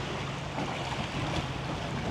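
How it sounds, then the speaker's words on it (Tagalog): Continuous wash of sea waves and wind, steady and fairly loud, with a broad rushing roar and no talk. "yung tunog ng hampas ng dagat,"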